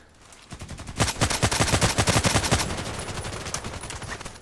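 The SVU-AS automatic sniper rifle in the shooter game Contract Wars fires a rapid automatic burst of about a dozen sharp, loud shots, followed by a ringing tail and lingering background rumble.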